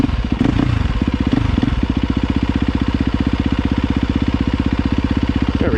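A 2023 KTM 350XCF dirt bike engine runs close and loud, first revving roughly, then settling into a fast, even four-stroke chug that holds steady.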